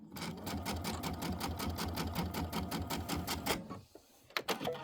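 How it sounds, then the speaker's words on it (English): A sewing machine stitching fabric runs in a fast, even rhythmic whir of needle strokes, close and steady, then stops abruptly, followed by a few handling clicks. "I'm going to sew a little bit off my fabric."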